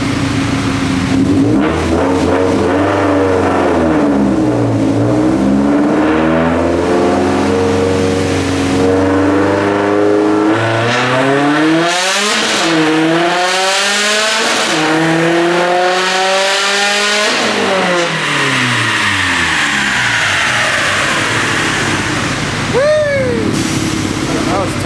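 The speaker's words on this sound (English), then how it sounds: "This is going to be a 1, 2, 3 flat foot shift on the dyno." An 800hp Chevrolet Silverado truck on a dyno, engine screaming up through gears in flat-foot shifts, loud sustained revving with rising pitch sweeps and sharp drops between shifts, ending in a brief whine.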